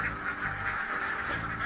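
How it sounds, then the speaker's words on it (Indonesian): A flock of egg-laying ducks on a farm quacks continuously in a dense, overlapping chorus, loud and close throughout, with no voices. "bebek petelur."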